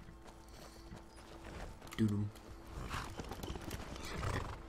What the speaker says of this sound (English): guess we're stealing a horse.